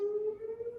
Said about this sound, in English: Weather siren.